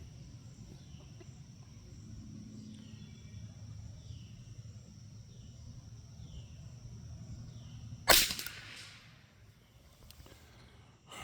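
A Savage Model 62 .22 LR rifle fires a single sharp, close shot during target practice, standing out abruptly against a quiet outdoor background hum.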